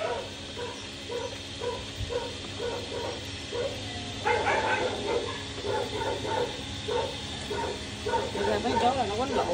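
Several dogs barking and yipping in repeated bursts that grow louder and more agitated partway through, over a steady background hum, sounding like a scuffle between the animals.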